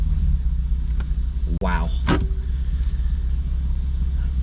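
Cars driving on Tennessee mountain roads, an Aston Martin V8 Vantage and a BMW M4, give a steady low engine rumble throughout, with a brief whine and a short sweep near the middle and a voice exclaiming once.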